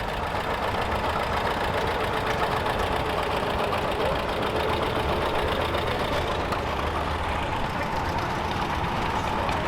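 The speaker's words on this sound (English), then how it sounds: "Pulling the Western Dakota Antique Club's kitty train is a 1939 John Deere H." A 1939 John Deere H antique tractor engine chugs steadily and loudly throughout at a steam and gas threshing bee, with a continuous rhythmic knocking idle and no voices.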